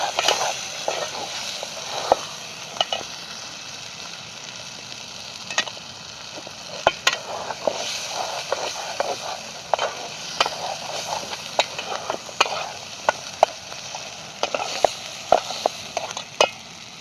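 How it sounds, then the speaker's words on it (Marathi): Ground masala paste fries in oil in a pan over a wood-fired stove for prawn curry, a continuous soft sizzle broken by irregular sharp spoon scrapes and clinks while it is stirred, close up, with no speech. "आता थोडीशी त्याच्यात कोथमीर टाकून जरा परत चांगलं हलवून घेणार आहे"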